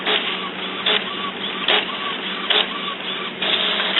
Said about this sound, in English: You can see how fast it's printing.